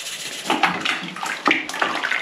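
Yeast being stirred into homemade melon fizz in a fermenting vessel, heard as close watery swishing and sloshing strokes in a few short bursts with no talk.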